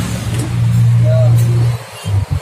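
A Yamaha X-Ride scooter engine is started, giving a short, steady low hum that lasts just over a second before cutting off abruptly, followed by a couple of brief bumps.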